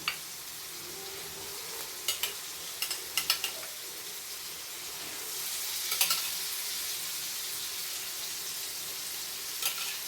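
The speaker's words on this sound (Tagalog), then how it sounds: "lagay na natin yung ating egg" An egg fries with tomatoes in a pan, giving a continuous close sizzle with a handful of sharp stirring clicks and taps scattered through, with no voices.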